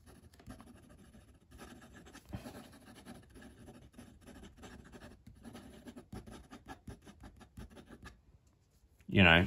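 Steady scratchy strokes of a Jinhao 82 fountain pen with a stiff steel nib writing on paper, giving slight feedback, heard up close and quiet, ending with a louder bump.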